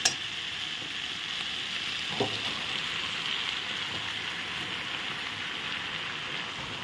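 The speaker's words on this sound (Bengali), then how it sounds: "মশলা দিয়ে কষানো হয়ে গেছে আমার একদম। এখন আমি পাতাগুলো দিয়ে দিই।" Bottle gourd leaves tumble into hot oil and spices in a pan, giving a steady, loud broadband sizzle with a brief splash of frying as the leaves land; no talk.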